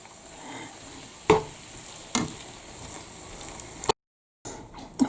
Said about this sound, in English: So I will stir this in and hopefully it still looks good.